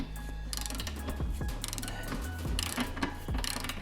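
Ratcheting wrench clicks in quick bursts, close and fairly clear, while a bolt is loosened during motorcycle maintenance.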